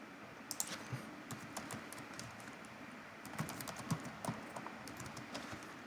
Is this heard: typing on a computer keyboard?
yes